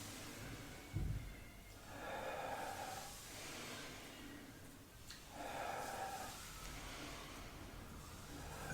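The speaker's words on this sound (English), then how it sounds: "Inhale up, exhale down." Slow, deep breathing during a gentle yoga session, long hissy inhales and exhales alternating in an even rhythm against a constant low background hiss.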